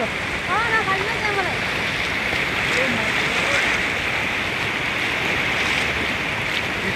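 River water rushes in a steady broadband wash as someone crosses a stream on foot, constant and close, with brief voices rising over the flow.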